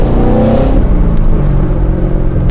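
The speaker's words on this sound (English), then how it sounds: "as soon as you just give it a little bit of gas and it just," A 2015 Chevrolet Corvette C7 Z51 engine pulls hard under light throttle, a loud, continuous low rumble whose pitch rises steadily as it accelerates, heard from inside the car with no talking.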